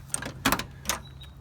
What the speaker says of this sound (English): You mind if I open this door, David?